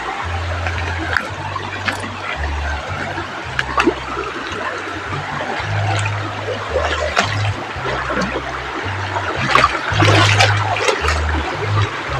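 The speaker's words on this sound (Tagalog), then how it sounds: "Ayan, yung sapa na yun" A small creek in a rural Philippine garden area flows steadily, its soft trickling and splashing water heard up close and continuous for the whole stretch, with no talking.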